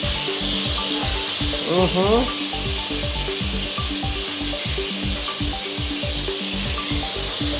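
Garlic and onion sauté loudly in a pan, a steady close sizzle cut by rapid rhythmic scraping strokes of a spoon against the pan that run through the whole stretch; no one speaks.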